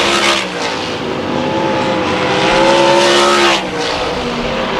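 Race cars roar loudly around a short speedway oval, the engine note rising and falling as the pack passes close by, with no voices.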